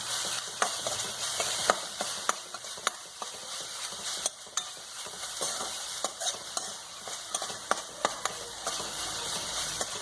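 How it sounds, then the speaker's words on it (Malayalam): Pineapple stir fry being stirred in a pan, Kerala-style thoran: a steady sizzle of frying under repeated scraping taps of a spoon against the pan, close and fairly loud, with no one talking. "നമുക്ക് ഇളക്കി കൊടുക്കാം കേട്ടോ."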